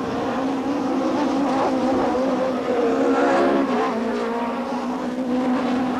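BTCC touring cars, a BMW leading two Vauxhalls, roar past at Snetterton, a continuous, layered engine drone rising and falling as the pack passes, loud and steady for six seconds.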